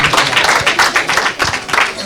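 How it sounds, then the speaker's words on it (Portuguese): A church congregation claps together in applause, a dense, steady patter of many hands close by, with voices mixed in underneath. "Então aplauda o nome do Senhor"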